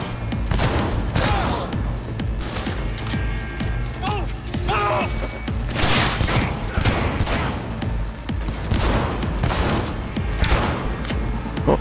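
Dense gunfire in a firefight in the Cyberpunk 2077 video game, with rapid bursts and loud shots cracking almost without pause alongside clanks and crashes, a voice briefly audible under the shooting.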